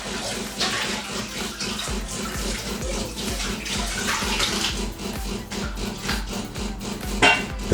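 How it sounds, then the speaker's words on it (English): A DeLonghi Magnifica coffee machine flushes water during descaling, producing a steady rushing, splashing stream into a collecting container with some clunks and rattles, close and continuous. "The coffee machine now starts the descaling process."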